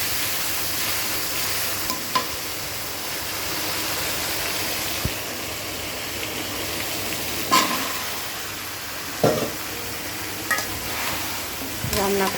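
Bottle gourd stir-fried in hot oil with onion and green chilli for a lau bori curry, a steady broad sizzle with a few brief scraping stirs across the whole stretch.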